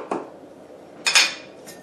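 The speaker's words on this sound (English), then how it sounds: "I have a knife here and I'm just going to cut a little piece like this" A knife cuts a small piece of red velvet poke cake on a plate, giving a few faint, sharp clinks and scrapes of metal against the plate in an otherwise quiet kitchen.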